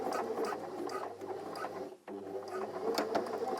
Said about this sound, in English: I'm sewing a second row of stitching a little bit away from the first row, sewing all the way forwards